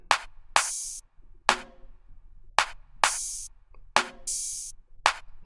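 A very simple beat-maker drum pattern in a light style: a deep kick, layered clap and snare hits with bright crisp tails, repeating in a steady loop, loud and close with no voices.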